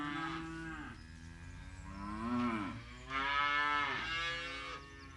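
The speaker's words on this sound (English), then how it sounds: "Dad's feeding the baby cows, or calves." Young calves only a few days old mooing inside a barn, several drawn-out bleating moos one after another, close and fairly loud, with no talking.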